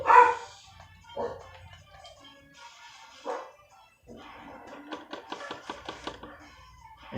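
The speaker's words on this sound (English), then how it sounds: "listen to the dogs bark on the inside of the house, listen to the dogs bark outside" Dogs bark in short, separate bursts, some inside a house and some outside, with quieter gaps and background noise between them.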